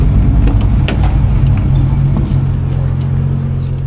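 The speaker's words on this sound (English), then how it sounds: "Oh, we got a little Camaro here." A Chevrolet Camaro drives past on a city street, its steady low engine rumble loud and close throughout, with a slight surge in the middle and traffic noise around it.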